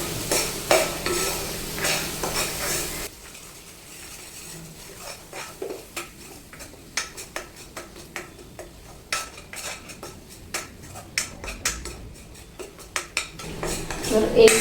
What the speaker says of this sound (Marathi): कढईला मसाला लागू नये त्यामुळे चमच्याने सतत आपल्याला असं मिक्स करत राहायचे।